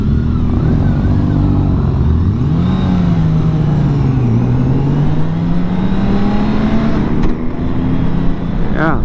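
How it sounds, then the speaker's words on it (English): A 2021 BMW K 1600 Grand America motorcycle engine hums smoothly and steadily while riding, a continuous close drone with shifting pitch and a few faint vehicle sounds from the surroundings. "Very smooth motor."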